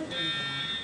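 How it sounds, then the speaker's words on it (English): An alarm buzzer sounds briefly as a thin, steady high-pitched tone, with speech overlapping the tone. "I wish the alarm were more convincing."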